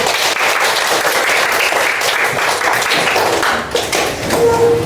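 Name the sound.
class applauding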